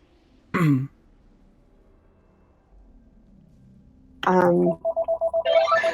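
A phone ringtone sounds up close, a sustained tone that breaks into a rapid pulsing series of rings near the end, after a short earlier ring; a throat clearing and brief voices are also heard.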